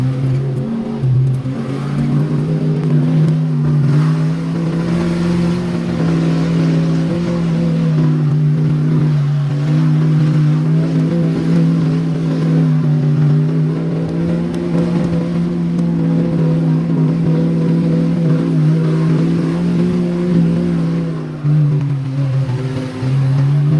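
An old truck's engine drones steadily in four-wheel drive on a slick surface, a loud, continuous, even hum heard close up from inside.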